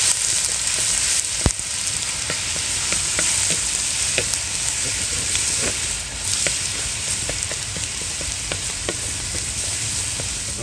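Ginger-garlic paste sizzles and fries steadily in hot oil for a Kerala mussel dum biryani, a dense continuous crackle with scattered sharp pops and occasional stirring clinks, close and fairly loud, no voices.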